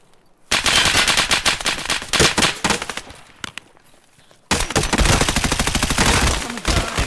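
Rapid bursts of automatic gunfire in the video game Escape From Tarkov, loud and close, rattle in two long volleys separated by a brief lull with scattered shots.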